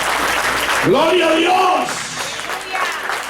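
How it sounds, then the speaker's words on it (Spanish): Church congregation applauding during a sermon, a steady wash of clapping throughout while a voice shouts over it. "Den un aplauso con deseo."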